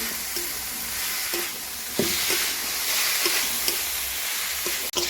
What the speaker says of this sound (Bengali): ভেজে রাখা সবজিগুলো দিয়ে দিচ্ছি দিয়ে আমি একটু ভালো করে নেড়ে ভেজে নেব